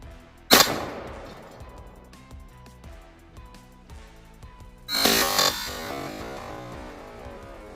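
A shotgun slug is fired at AR500 steel body armor: one sharp, loud blast early on, then a second heavy, sustained burst of impact noise a few seconds later, with a quieter stretch in between.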